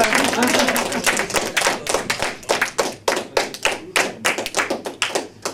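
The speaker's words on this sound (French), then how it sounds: "On applaudit la courte échelle." Applause breaks out in a small French cabaret audience, a patter of claps under a voice at first, then loosening into separate louder claps that trail off unevenly.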